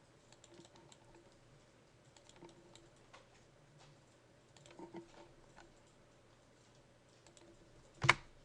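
Light tapping on a computer keyboard comes in sparse, quiet clicks and short flurries, then one sharper, louder keystroke near the end.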